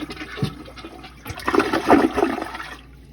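Maiden flush of a newly installed American Standard toilet: a click of the lever, then a loud rushing swirl of water that builds, peaks and drains away over about two seconds, close by.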